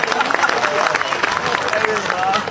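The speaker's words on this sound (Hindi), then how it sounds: "एक बार तालियां बजाकर बताएं।" Audience at a Hindi comic poetry show applauding, sustained clapping and crowd noise filling the whole stretch at steady loudness.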